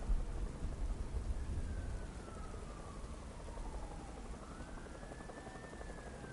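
Heavy rain falls steadily in the Batman: Arkham Knight video game, a dense continuous wash with low rumbling and a faint rising tonal whine, no voices.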